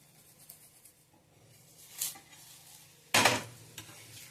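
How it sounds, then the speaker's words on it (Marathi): Lachha paratha roasting in ghee on a pan: a faint, quiet sizzle with a few soft spatula scrapes, and one louder burst of crackling where the paratha is pressed or turned. "असं छान खरपूस होईपर्यंत हा भाजून घ्यायचा आहे"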